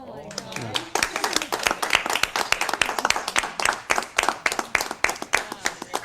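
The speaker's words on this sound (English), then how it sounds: "This is where the applause happens." A small audience claps after a close-up magic trick with a ring, a dense and lively round of applause starting abruptly and holding steady near the listener, with a voice heard briefly at the start.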